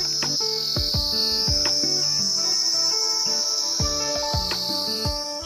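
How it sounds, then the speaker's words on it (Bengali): Crickets shrill without pause in the hills of North Bengal's Duka Valley, a loud, steady high-pitched trill with faint clicks and knocks scattered underneath. "ঝিঝি পোকার আওয়াজটা শুনুন।"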